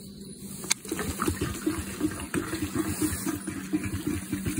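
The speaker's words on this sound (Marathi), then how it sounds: "घरी जायचं सोडून पेट्रोल टाकून घेऊ" Petrol glugs and pours steadily from a bottle into a Royal Enfield Hunter 350 motorcycle tank in a bubbling, uneven stream, close by, with a sharp click near the start.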